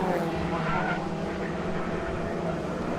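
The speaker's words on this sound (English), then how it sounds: "And cars going up the hill." BMW Compact race cars climb the hill at Knockhill circuit, engines roaring in a steady, dense wash of sound that stays close and loud for the whole stretch, with no break in the noise.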